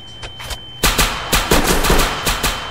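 Rapid bursts of Tech 9 drum-magazine gunfire in a video game, loud and close, with a faint shot or two before a string of sharp cracks in uneven clusters.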